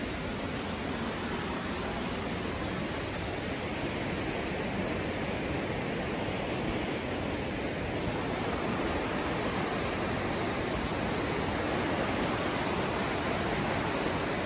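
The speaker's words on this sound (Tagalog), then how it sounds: "lagaslas ng tubig." Mamquam Falls, a waterfall in Squamish, British Columbia, sends out a steady, loud broadband rush of falling water, unbroken and alone for the whole stretch with no voices.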